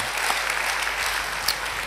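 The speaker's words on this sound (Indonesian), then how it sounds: "beri tepuk tangan yang baik buat dia" Congregation applauding at a church service, a steady, dense wash of clapping that fills the room for the whole stretch without any speech over it.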